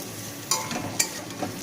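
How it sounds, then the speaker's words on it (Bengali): Diced capsicum and onion fry with garlic in a pan, a continuous close sizzle broken by two brief stirring scrapes about half a second apart. "এটাকেও ভালো করে আমি একটু ভেজে নেব।"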